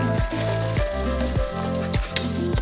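Washed, drained rice stirred into hot oil and spices in a pan: a loud, steady sizzle runs throughout, over a low repeating hum from a piece of background music.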